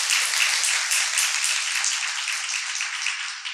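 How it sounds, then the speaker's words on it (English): Audience applause at the Kentucky Teacher of the Year ceremony, a steady broadband wash of many hands clapping that holds evenly for the whole stretch, fairly distant and without voices. "let's give her a round of applause"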